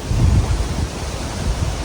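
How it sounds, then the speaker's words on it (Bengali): Strong wind gusts outdoors under a clouding sky, a loud, buffeting low roar that swells and eases over a couple of seconds, with no voices. "তারপরে প্রচুর বাতাস বইতেছে"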